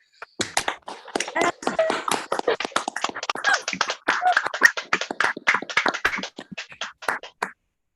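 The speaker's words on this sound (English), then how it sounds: "If y'all can unmute yourselves and give each other a round of applause." A high school class applauds each other over a video call: many overlapping claps in a quick, irregular patter, close and slightly compressed.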